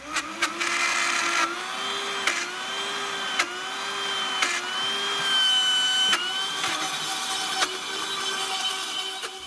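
A Vitamix Professional Series 750 blender grinds peanuts into butter, its motor whining steadily at a high pitch with periodic dips and thumps as the speed shifts and the thick mixture churns, loud and alone.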